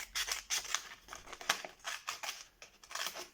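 Scissors snip through material, likely paper or card, while making a musical hat, giving a quick rhythmic series of close, crisp cuts with no talking.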